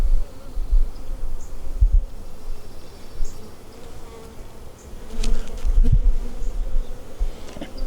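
Honey bees buzzing loudly and continuously around an open hive in a bee yard, a close, dense droning hum that swells and dips.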